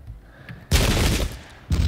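Musket volleys crackle in a Pike and Shot battle, a short burst followed by a loud sustained rattle of massed fire, a brief lull, then another volley starting.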